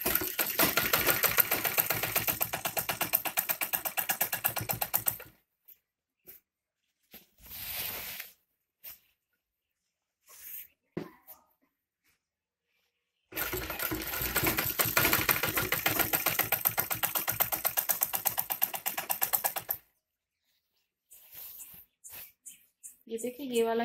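A sewing machine stitches salwar fabric in two long steady runs of rapid needle chatter, loud and close, separated by a quiet stretch with a few short bursts and handling sounds.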